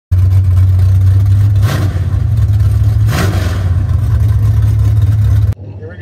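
A No Prep Kings drag racing car warms up at Brainerd, its engine holding a loud, deep idle rumble broken by two sharp revving bursts before cutting off abruptly near the end.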